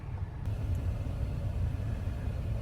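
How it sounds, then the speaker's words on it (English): A Jeep Wrangler JKU engine idles after a cold start at minus 30, a steady low rumble close by with no talk. "we're gonna do cold start to make sure everything's good"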